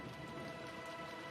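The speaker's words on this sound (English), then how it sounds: "And it was raining this hard too." Heavy rain pours steadily in the visual novel game Umineko, a dense, unbroken hiss of downpour filling the whole moment with no voices.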